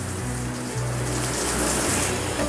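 Water streams steadily from a newly installed dual shower head with a rain head and handheld, a close, continuous hiss and patter with low plumbing hum underneath.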